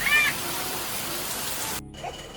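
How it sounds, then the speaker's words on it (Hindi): Steady hiss of rain falling outdoors near Ranipur Jharial, a broadband wash that holds evenly for about two seconds before briefly dropping away and then resuming. "वर्षा बहुत अच्छा लगे देखो ये आसमान"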